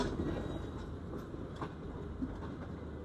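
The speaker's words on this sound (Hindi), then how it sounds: "लाहौर रेलवे स्टेशन के करीब पहुंच रहे हैं" A train pulls into Lahore railway station at the end of a run from Karachi, a steady rumbling roll with faint rhythmic clatter of wheels on track, heard from inside, continuous and moderately loud without talk.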